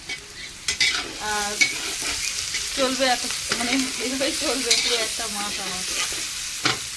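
Chickpeas being fried and stirred in a pan, a close steady sizzle with scraping stir strokes, heard under someone speaking throughout.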